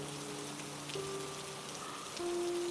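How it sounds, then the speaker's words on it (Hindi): Steady rain falls on a hut roof, a continuous even patter with a faint tonal hum beneath that swells slightly louder near the end. "बाहर बारिश की आवाज पहले से थोड़ी तेज हो गई थी और झोपड़ी की छत पर गिरती बूंदें लगातार एक जैसी आवाज कर रही थी"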